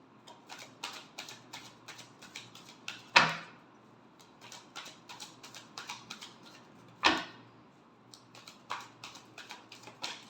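Tarot cards are shuffled in rapid bursts of soft riffling clicks and taps, with two sharper louder snaps as the deck is squared, fairly close and quiet, with no talking.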